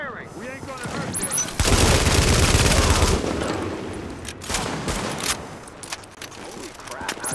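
Sustained bursts of automatic gunfire in Tom Clancy's The Division, loud and dense for several seconds, then easing into scattered shots under shouted voices.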